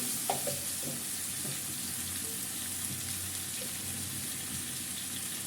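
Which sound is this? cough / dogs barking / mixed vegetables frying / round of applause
mixed vegetables frying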